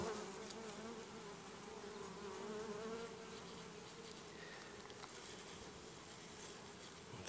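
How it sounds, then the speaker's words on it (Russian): Honeybees hum steadily around open hives at an apiary in early September, a continuous close, even buzz with no voices. "пчел надо прогонять, чтобы не придавить"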